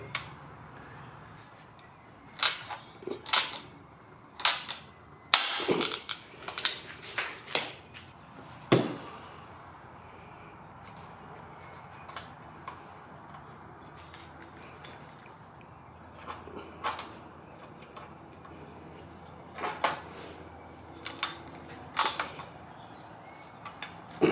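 Rivets and washers being fitted during a Ford ZF Fairlane restoration, heard as scattered sharp metallic clicks and creaks in short bursts, close and fairly quiet, with long quieter gaps between.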